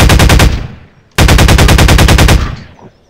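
Assault rifle fire in Garry's Mod, two loud sustained bursts of rapid automatic shots, the first about half a second long and the second about a second, each trailing off into a brief decay.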